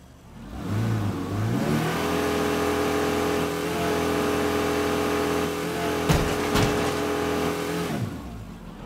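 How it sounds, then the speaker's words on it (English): A car engine in the State of Decay 2 video game revs hard with the handbrake on, rising quickly to a loud sustained roar with a couple of sharp knocks near the end before it drops away. "I put the handbrake on and then revved it, then let go and it just flipped it."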